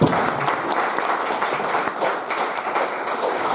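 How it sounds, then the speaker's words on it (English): Audience applause at a county jailer election debate, a dense steady wash of clapping throughout that stays fairly loud and even. "How about a round of applause for our viewers on Facebook and our folks at NBR TV and Steve Hall,"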